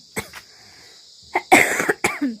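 A woman in a rural mountain village coughs in several sharp, close bursts separated by short pauses, with a faint steady hum in the background.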